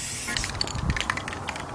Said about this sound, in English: I'm gonna do the first spray.